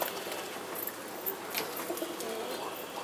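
Soft cooing of pet pigeons rises and falls in low repeated phrases against faint background hiss, fairly quiet and a little distant.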